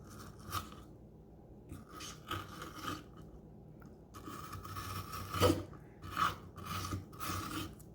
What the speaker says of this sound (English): So let's just scrape the jelly part.